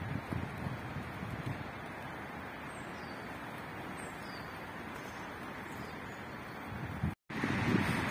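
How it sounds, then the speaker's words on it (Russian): Strong wind on a snowy morning pours across the microphone as a continuous roaring rush. It stays loud and steady throughout, with only a brief cut near the end. "Ветер очень сильный."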